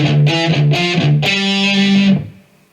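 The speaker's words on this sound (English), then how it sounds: "If you have got palm muting, then it should look and sound like this." Chugging palm-muted notes on a distorted electric guitar playing a riff, a few short choppy hits then a longer held chord that stops abruptly.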